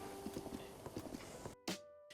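Hooves clip-clop in a steady gait from a horse in the Zelda Breath of the Wild game, moderately close, then a short gap before one brighter burst and a sustained tone.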